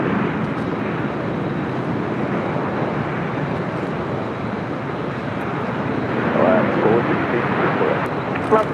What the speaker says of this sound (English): Nice little engine start on that